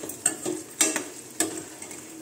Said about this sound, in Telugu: పచ్చిశనగపప్పు కొంచెం వేగింది, చాలు